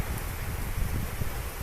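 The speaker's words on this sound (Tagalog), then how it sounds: "Mukhang lumalakas pa yung hangin." Strong wind from typhoon Kristine roars steadily across the microphone in a flooded rice-farming area, a dense continuous rush with low buffeting gusts and no talk.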